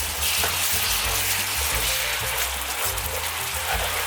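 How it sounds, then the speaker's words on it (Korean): Broth boils with tteokbokki rice cakes cooking in a pan for aglio e olio tteokbokki, giving a steady close bubbling sizzle that stays loud and continuous throughout. "이렇게 육수가 끓고 떡이 익기 시작하면"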